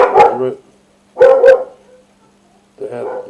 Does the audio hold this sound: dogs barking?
yes